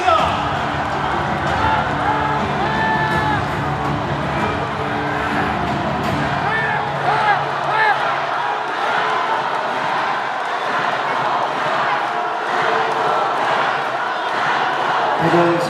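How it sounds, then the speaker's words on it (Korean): A party convention crowd applauds a speaker's entrance. Dense, steady clapping and crowd noise fill the hall, thinning somewhat toward the end. "큰 박수로 맞이해주시기 바라겠습니다."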